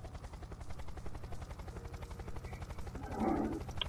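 Helicopter in the video game Unturned, its rotor giving a steady, rapid chopping beat over a dense engine roar, loud and constant throughout with a brief swell near the end.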